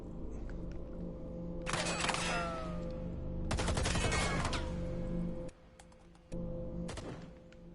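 Gunfire in a competitive match of a tank-and-infantry shooter game, two dense bursts of rapid shots with a mechanical background hum, then a brief quieter lull before the engine-like drone returns.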